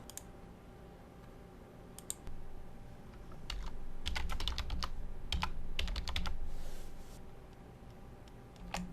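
Fingers type a password on a computer keyboard, soft clustered key clicks in short irregular bursts over a low room hum, close and quiet with no speech.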